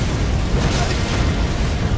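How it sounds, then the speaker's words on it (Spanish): An explosion in the video game Elden Ring Shadow of the Erdtree roars as a dense, loud, continuous blast of broadband rumble and noise that holds for the whole moment. "me llegó la explosión aún así"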